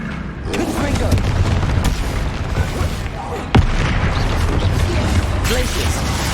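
A Confringo fire spell explosion in Hogwarts Legacy: a dense, rumbling booming blast with one sharp impact midway, loud and continuous.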